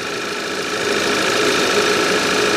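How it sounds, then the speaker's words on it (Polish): An Audi A5 Coupe with a 2.0 TFSI engine runs steadily at close range, a loud, even mechanical drone with a faint ticking rattle underneath, and no talking. "Słyszeliście, jak silnik zagadał."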